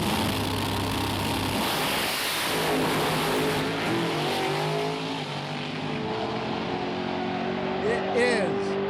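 Drag race car with a 3-speed and 3-stage nitrous roars off the line at Great Lakes Dragaway, a loud sustained engine howl that fades as it runs down the strip, with an announcer talking over it.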